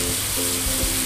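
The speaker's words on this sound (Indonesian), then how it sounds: "Kita tumis lagi sampai aromanya harum dan bumbu halusnya benar-benar matang." Ground spice paste sautéing in a pan for clear chicken soup, a brief close sizzle with soft stirring, no talking.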